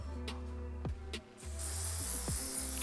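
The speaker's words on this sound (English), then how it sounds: "I'm gonna use a little bit of spray shine" Spray shine misted onto sectioned hair during braiding, a close, steady hiss that starts about halfway through and runs to the end, after a few quiet handling taps.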